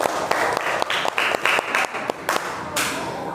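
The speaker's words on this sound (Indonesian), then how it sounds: "Tepuk tangan untuk Akila" A class applauds for a student named Akila during a school teaching performance exam, a few children clapping in loose bursts that stop and restart several times, close and fairly loud, with a brief voice in the background.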